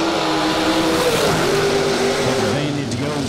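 Drag racing cars launch down the track during a Race Star Pro 60K race at The Million, a loud continuous engine roar that fills the whole stretch.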